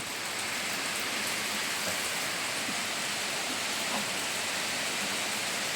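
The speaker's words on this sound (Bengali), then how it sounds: "কোথা থেকে পড়ছে বৃষ্টি? বৃষ্টি কোথা থেকে পড়ছে?" Steady rain falls continuously in an even, dense hiss of countless drops, close and moderately loud, with no voices.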